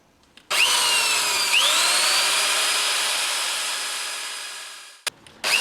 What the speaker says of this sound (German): und bohre die Nieten aus.